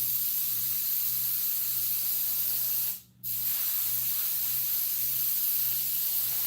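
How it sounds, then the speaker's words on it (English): Liquid sprayed onto a Krampus mask in a steady, loud hiss, broken once by a brief pause before the spraying resumes over a low background hum. "I should spray it till it runs clear."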